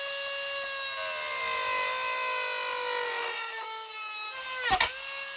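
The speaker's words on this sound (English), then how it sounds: "This bar needs to come through the fairing, and then we're gonna build a cage around the fairing. So time to get the Dremel out and do some eyeballing." A Dremel rotary tool cutting through a dirt bike fairing makes a loud, close, high-pitched whine that holds steady, then briefly sags and bites harder near the end as the cut catches.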